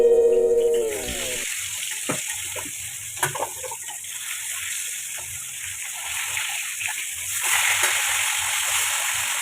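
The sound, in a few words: fish frying in oil for fish kalia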